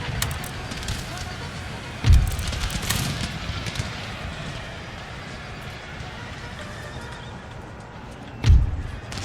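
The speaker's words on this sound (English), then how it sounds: "That cavalry charge absolutely blitzed us there." Cavalry horses charging in the Empire Total War video game, with galloping hooves and battle noise throughout and two loud thumping impacts with neighs, heard amid the clamour of fighting.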